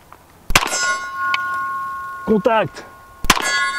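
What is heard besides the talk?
gunshots hitting a steel gong target at about fifteen metres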